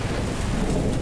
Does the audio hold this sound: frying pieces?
no